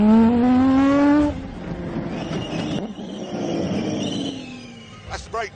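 A loud, high-pitched squeal from squeaky car brakes, piercing and tonal, holds for about a second before giving way to rumbling car noise and a few light clunks.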